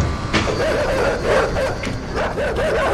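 Dogs in the video game Inside bark and yelp in quick, overlapping bursts, with whining, wavering cries between the barks over a steady mechanical background hum.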